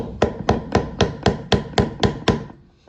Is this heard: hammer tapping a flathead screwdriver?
yes